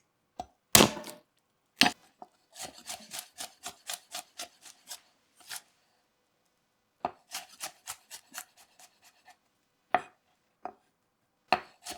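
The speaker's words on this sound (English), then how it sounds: "Smash, peel, trim off the root end, then mince garlic." A knife minces garlic on a cutting board in quick, close, rhythmic bursts of sharp taps, with short pauses between runs of chopping and a few louder isolated knocks, with no talking.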